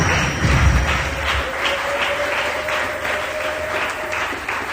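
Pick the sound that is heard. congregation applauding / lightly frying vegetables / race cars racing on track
congregation applauding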